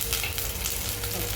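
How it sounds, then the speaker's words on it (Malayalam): Mustard seeds popping in hot coconut oil for a fish curry, a dense steady crackle and sizzle close up with no talk. "വെളിച്ചെണ്ണ ചൂടായിട്ടുണ്ട്. ഇനി കടുക് പൊട്ടിക്കാൻ പോണ്."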